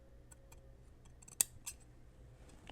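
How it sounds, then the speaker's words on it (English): Scissors trim lace for a girl's peasant dress, giving a faint, quiet scene with one crisp snip followed by a softer second cut and light ticking handling sounds. "I'm going to trim the lace so that it overlaps about 1/2"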